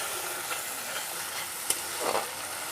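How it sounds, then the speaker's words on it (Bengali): Spice paste with turmeric powder stirred and frying in a pan for an aloo fulkopir dalna, a steady soft sizzle throughout with scraping stirs and a brief louder clink near the middle. "হলুদ দিয়ে এখন মশলাটাকে একটু কষিয়ে নেব।"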